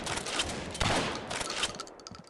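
A KSG shotgun firing in a video game deathmatch, dense overlapping blasts and distant gunfire crackling across the whole moment, with a heavier burst near the middle.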